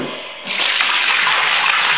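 A bucket of rinse water from hand-washing cloth diapers is dumped out, a steady loud gush and splash that starts abruptly and pours continuously to the end.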